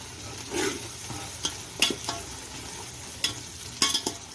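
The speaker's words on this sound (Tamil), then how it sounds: "இப்போ தக்காளியும் நல்லா வதங்கி வரட்டும்." Tomatoes and onions sauté in a pan for mushroom biryani, with a soft sizzle and several sharp scraping stirs and clinks of a spoon against the pan.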